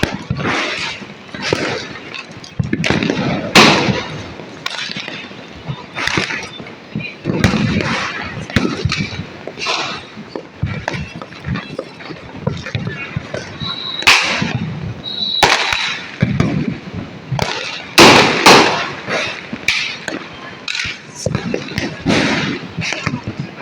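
Big firecrackers burst repeatedly at varying distances, sharp cracks and booms scattered through a dense background of celebration noise, with a voice speaking in between.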